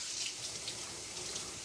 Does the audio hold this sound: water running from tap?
yes